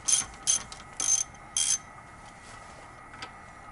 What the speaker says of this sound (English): got to use the ratchet